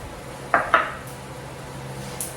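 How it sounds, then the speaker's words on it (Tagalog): Chopped onion and tomato go into a cooking pot with two quick, close clinks of a utensil on the pot, followed by quiet background hum and a faint later tap. "ilalagay ko na po itong sibuyas at saka kamatis"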